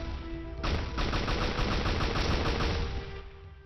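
Gunfire in the video game Dusty Raging Fist: a rapid burst of sharp repeated shots rattles off for about two seconds, loud and close, then fades into a lingering tail.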